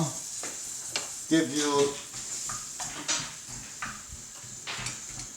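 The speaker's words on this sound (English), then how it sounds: "mince, stirring it, breaking it down so it doesn't look stringy" Mince stirred and broken up in a hot pan for home-style chilli, with a steady sizzle, scraping utensil clicks and pan knocks, and brief speech over it.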